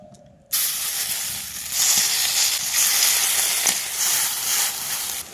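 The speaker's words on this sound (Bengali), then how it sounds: "এবার চপগুলো ভেজে নেব।" Vegetable chops fry in hot oil in a wok, setting off a sudden loud hiss of sizzling that holds steady and close.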